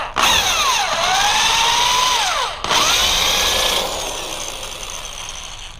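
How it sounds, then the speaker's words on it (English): Power drill boring a pilot hole into a door to reinforce it against break-ins, a loud continuous whine that sweeps down in pitch, cuts out briefly, then restarts and trails off. "we're going to get in here and drill a pilot hole"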